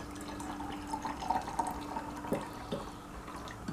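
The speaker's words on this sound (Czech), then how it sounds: "Zalijeme to vodou." Water is poured over salt in a container while a homemade rust remover is mixed, heard as soft, close splashing and dripping with a few brighter drops, fairly faint against a low steady hum.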